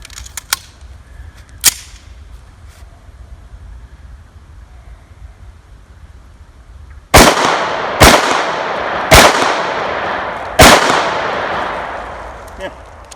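A 1911 .45 pistol fitted with a Truglo Micro red dot sight fires four loud, close shots at irregular intervals, each with a sharp crack and echoing tail, after a few faint clicks and quiet outdoor background.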